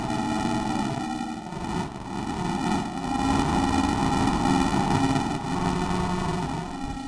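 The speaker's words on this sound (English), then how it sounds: "this is using a lot of the sample rate distortion that got randomly selected there" A sustained, buzzing Novation Circuit synthesizer tone with gritty, crunchy sample-rate distortion and a steady harmonic drone, loud and continuous throughout.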